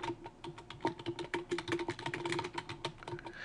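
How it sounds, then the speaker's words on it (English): Fingers type steadily on a computer keyboard, a close run of crisp, uneven key clicks with small pauses between bursts, heard alone without speech. "I'm going to, under the description, type in live music."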